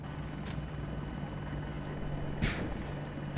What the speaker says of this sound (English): Alright, I got a chopper.